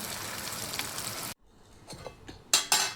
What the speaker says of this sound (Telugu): చూసారా ఎలా వేగుతున్నాయా?